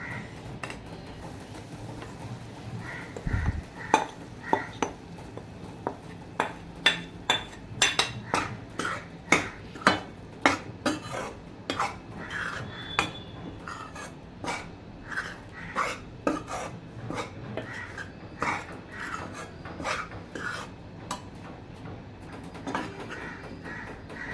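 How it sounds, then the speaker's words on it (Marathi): Wheat flour roasting in ghee in a pan for fenugreek laddoos, stirred with a spatula that scrapes and clinks against the metal in a fairly regular rhythm, close by, over a faint low hiss. "दोन चमचे तूप घेऊन आता आपल्याला गव्हाचं पीठ भाजून घ्यायचं आहे"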